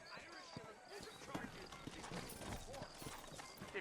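Horses in the video game Red Dead Redemption clop and shuffle in a western town, faint hoofbeats and a soft whinny under a man's dialogue.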